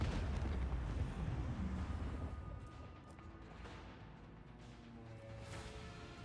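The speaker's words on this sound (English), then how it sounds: "Show them the fury of our macro cannon." Heavy macro cannon barrage from a warship in Rogue Trader, a deep rumbling roar of explosions that starts loud and gradually fades into a lingering low boom, with no talking.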